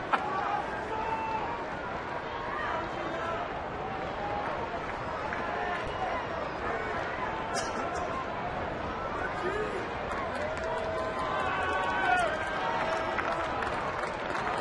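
Crowd at a Boston ballpark during a Yankees–Red Sox baseball game makes a steady, distant roar and murmur of reaction with scattered claps, and a commentator talks over it.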